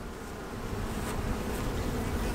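Dense, steady buzzing of a large, congested honeybee colony in an open hive, loud and continuous throughout with no talk over it.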